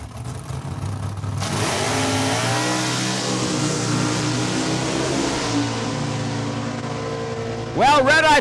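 Drag race launch between a 1971 Plymouth Duster and a Ford Mustang at a raceway, a loud steady engine roar that swells up quickly and holds, with a track announcer talking over it and a sharp engine burst at the end.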